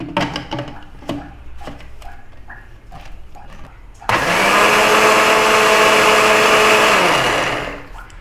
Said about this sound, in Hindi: लुक, अब हम इसको ब्लेंड करेंगे।